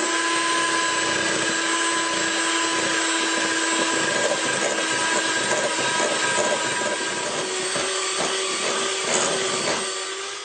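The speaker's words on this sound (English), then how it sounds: "Now get a mixer and mix this for, well, it could be up to 10 minutes" An electric mixer whips a marshmallow mixture for cones, a steady motor whir with a constant hum running loud and unbroken throughout, with faint scraping texture and no talking.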